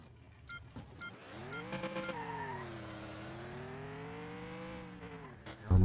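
A Golf GTI race car in a video game accelerates, its engine tone rising and sweeping steadily for several seconds, with brief tire squeal near the start and a loud burst at the end, no voices.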